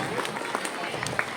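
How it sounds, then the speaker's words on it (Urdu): An audience of students and teachers at a 26 January speech claps in a dense, fairly even burst, with a voice speaking over the applause. "تالیاں بجتی رہنی چاہیے۔"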